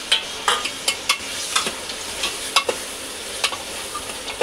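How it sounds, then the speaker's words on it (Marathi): Chopped tomatoes fry in a pan for butter chicken: a soft steady sizzle under repeated sharp scrapes and taps of a spoon stirring, close up and with no talk. "आता आपण टोमॅटो टाकूया। त्याला पण आता चांगलं फ्राय करून घेऊया।"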